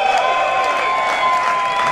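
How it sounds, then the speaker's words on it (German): A large outdoor crowd at a mass demonstration in Berlin applauds and cheers, a continuous wash of clapping with a steady tonal hum running underneath. "Ein Applaus!"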